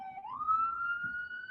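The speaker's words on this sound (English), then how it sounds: "there's an ambulance going past" An ambulance siren passes nearby, a steady rising electronic wail that swells and holds loud and clear with no talking over it.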